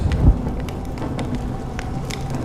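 Steady rain falls beyond a shelter in the game Honkai Star Rail, a continuous soft hiss dotted with small drips and patters, with no voices.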